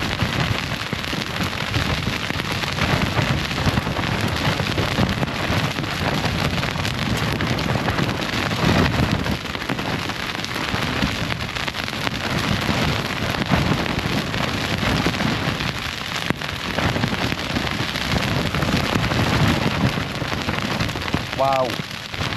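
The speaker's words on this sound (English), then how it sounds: "That wind's insane." Strong wind buffets a wild camp on the Fan Llia mountain in Bannau Brycheiniog, a dense, steady roar with gusty rushes and patter against the tent or microphone, loud throughout with no talking.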